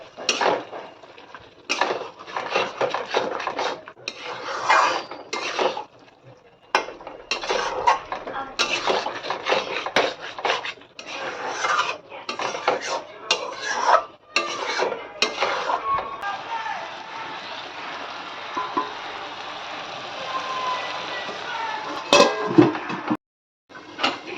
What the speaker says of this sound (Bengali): দিয়ে দেব ঘি দেব গরম মশলা একটু নাড়িয়ে দু মিনিট রেখে দেবো